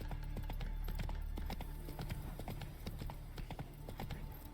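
Roach, the horse in The Witcher 3: Wild Hunt, walks with a regular clip-clop of hooves, even and fairly close, over a low steady game background.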